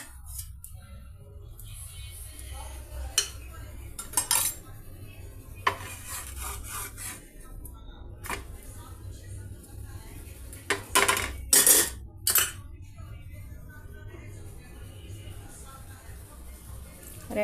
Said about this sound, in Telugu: కొద్దిగా మరీ ఎక్కువ లేకుండా కొద్దిపాటిగా ఘీని యాడ్ చేసామండి ఈ బ్రెడ్ స్లైసులకి